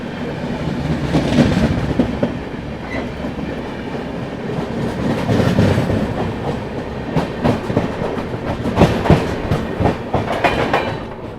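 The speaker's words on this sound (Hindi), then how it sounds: "चलिए फिलहाल ट्रेन अपनी जो है पनकी धाम स्किप कर रही है" The Gorakhdham Superfast Express passes through Panki Dham station with a loud, steady rumble and continuous clickety-clack of wheels over rail joints, close and sustained throughout.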